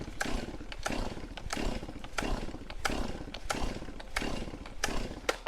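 A chainsaw engine runs at a rough, pulsing rev close by, with repeated sharp bursts roughly every half second over a steady motor drone, loud and alone with no voices.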